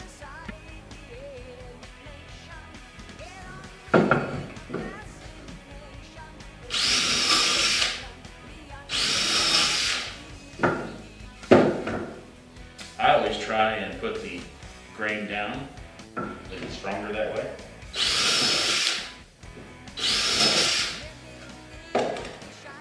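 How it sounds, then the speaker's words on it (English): Power drill pre-drilling screw holes in wood in a cold barn, several short loud bursts of whirring drilling spaced through the clip, with someone talking in between. "I always pre-drill all of my screw holes first."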